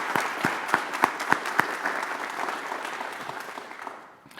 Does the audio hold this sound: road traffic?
no